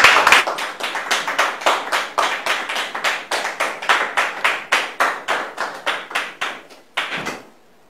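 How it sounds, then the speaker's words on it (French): Studio audience in a French-language TV talk show claps to welcome a mother and her son: a few dozen clear, rhythmic claps in steady unison, fairly close and loud, ending abruptly with one last clap. "sous vos applaudissements."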